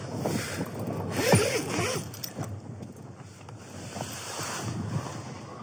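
Wind gusts buffet a tent on a winter mountain, a loud rushing roar swelling and easing with microphone buffeting, with a brief rustling flap partway through.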